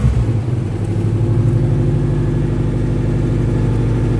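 A 1971 Saab 96 V4 engine idles steadily after a cold start on choke with no throttle, a loud, close, even rumble heard alone.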